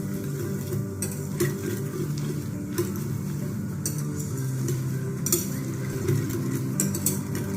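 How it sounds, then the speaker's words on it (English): Eggs whisked with oats soaked in milk for an oats omelette, a busy continuous clatter of a whisk against a bowl with bright clicks at an uneven pace, close and without talk. "and the oats soaked in milk. Use a whisk"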